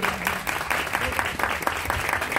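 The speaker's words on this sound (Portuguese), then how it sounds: "mais uma salva de palmas para a Zelinda." Steady, enthusiastic applause from a crowd at a mystic esoteric festival, continuous clapping throughout with a dense, lively texture.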